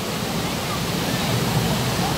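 Tumalog Falls waterfall pours as a dense, steady rush of water, loud and continuous, with no break or change across the short stretch.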